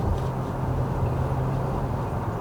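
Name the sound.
wind noise around car window while driving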